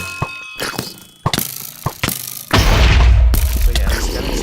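Gunfire in a Minecraft mob arena game: scattered sharp shots and thuds pop at irregular intervals, then a loud sustained booming rumble takes over, with a voice talking faintly in places.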